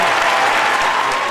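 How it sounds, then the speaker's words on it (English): Brief burst of loud, dense applause from a group, close and continuous with no pauses. "Give him a round of applause."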